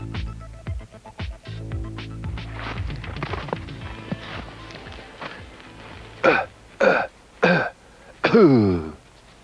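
Four short, sharp voiced bursts near the end, a person imitating a whitetail buck's cough or grunt, following a stretch of quieter background sounds.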